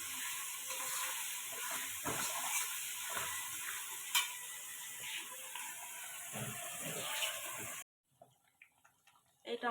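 Ginger, garlic and coriander paste sizzles steadily in a hot pan for Bengali egg curry, a continuous close frying crackle with a few stirring scrapes, cutting off abruptly near the end to quiet clinks.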